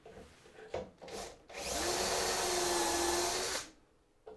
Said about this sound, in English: And with our drill,